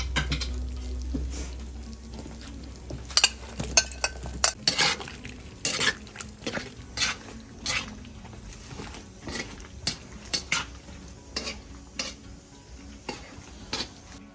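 Garlic and onion go into a kazan with braised lamb ribs, a soft sizzle running under repeated stirring scrapes and clinks of a utensil against the pot, with no one speaking.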